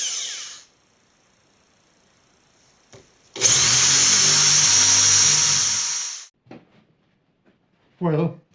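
A power drill whirs loudly for about three seconds as it bores a hole into hard wood, with short bursts of talk and clicks before and after.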